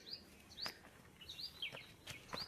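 Birds chirping in the forested Yeoor Hills near Thane, giving several short, bright tweets and quick whistled calls spread across the clip over faint outdoor background noise, with no people talking.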